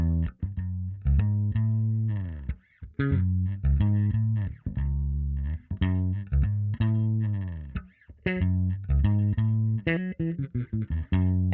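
A dry Yamaha BB434 bass guitar played through an FX unit running a Parametric Filter emulation, with funky, rhythmic plucked notes that are loud and continuous and no voice over them.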